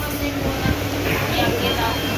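Interior of a moving Itarsi–Bhusawal MEMU passenger train: a continuous loud rumble of wheels and carriage noise with rattling, steady throughout, with voices mixed in.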